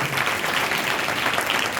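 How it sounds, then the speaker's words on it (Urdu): A church congregation applauds loudly and continuously, a dense wash of many clapping hands heard close and without pause. "آئیے زوردار تالیاں بجائیے خداوند کی جلال کو۔"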